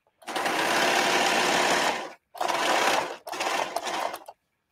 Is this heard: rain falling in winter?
no